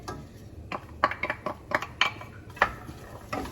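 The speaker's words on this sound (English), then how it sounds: "now I'm gonna add my chopped onion in" Chopped onion tipped into browned, drained ground beef in a pan, giving a series of clattering scrapes and utensil knocks against the pan in a rough rhythm, close and alone without talk.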